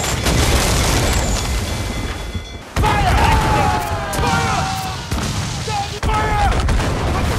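Cannon and gunfire volleys in the Assassin's Creed Freedom Cry video game, loud booming blasts and crackling shots in repeated bursts, with sharp fresh volleys about every few seconds amid dense noise and faint shouting.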